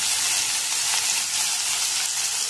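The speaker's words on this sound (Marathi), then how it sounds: "कांदा कापून घेतलेला आहे, तो चांगला आपण आता तेलामध्ये फ्राय करून घ्यायचा आहे" Chopped onion fries in hot oil as a loud, dense, unbroken hiss that stays even from start to end, with no stirring strokes standing out and no voices.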